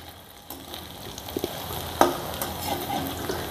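Coriander fritters, kothimbir vadi, frying in hot oil, with a steady low sizzle and a few soft clinks and stirring scrapes, close and fairly quiet with no talking.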